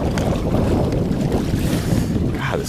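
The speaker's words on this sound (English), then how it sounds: "this wind makes it so hard to do" Steady wind roars across the open water of Lake Norman around a fishing kayak, a continuous loud gusting rush buffeting the microphone with faint water lapping, no voices.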